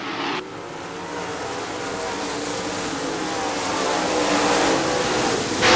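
A late model stock car, the number 25, roars down the backstretch at Crystal Motor Speedway, a loud sustained engine drone swelling closer with a deep rumble, heard alone without talk.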